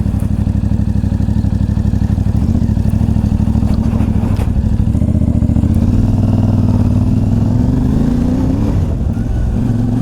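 A CFMOTO 450MT motorcycle cruising along a road, its engine a steady, loud close-up drone with rhythmic pulsing and slight changes in pitch as the throttle shifts toward the end, with no talking.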